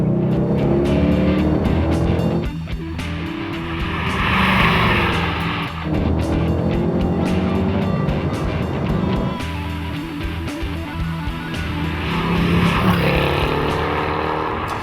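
A deep, steady V8 engine rumble from a Mercedes-Benz E63 AMG drones on continuously while the car cruises, with slight surges in revving and no one speaking.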